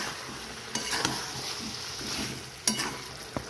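Chicken and potato pieces are stir-fried in a pan, with a steady low sizzle under occasional sharp clinks and scrapes of a spoon against the pan.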